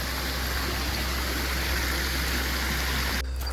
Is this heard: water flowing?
yes